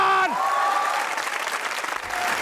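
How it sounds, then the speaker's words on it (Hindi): A studio audience applauds to welcome Pakistani actor Ayaz Khan onto a comedy talk show, giving a steady wash of clapping that follows a brief, fading tone. "Put your hands together for Ayaz Khan."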